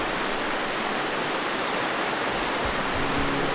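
Steady broadband rush of flowing water at a campsite, a constant close wash of stream or small waterfall sound with no voices, holding even throughout.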